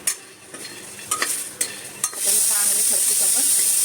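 Makhana (fox nuts) being dry-roasted on low heat and stirred in a pan, with a few scraping stirs near the start, then a steady bright hiss that continues to the end.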